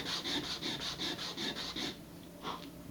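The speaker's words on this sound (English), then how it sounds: "I'm just going to sand it." Sandpaper rubs back and forth on a part of an Estes Black Brant II model rocket, about ten steady rasping strokes, close and fairly loud, with a short pause before the last two strokes.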